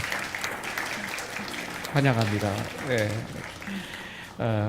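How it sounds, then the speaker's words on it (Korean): Clapping from a Sunday worship congregation welcomes a standing church member, a light patter in the first seconds soon covered by someone speaking warmly. "연응세 형제 우리 박수로 한번 환영해 주시죠"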